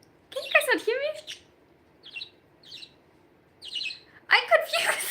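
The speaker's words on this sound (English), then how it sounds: "is this your bird? Yes, this is my bird." A pet bird lets out a few short, bright chirps in the gaps between people talking, with the voices louder than the calls.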